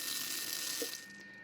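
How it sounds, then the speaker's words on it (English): An Infinity Eaze z3 bidet seat sprays water in a bathroom, a steady close hiss of spraying water that softens slightly near the end, with a brief faint mechanical click partway through. "Water's coming out, so it's working really well."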